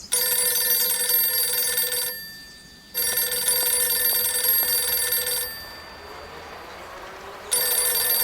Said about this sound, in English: Could that be a telephone ringing?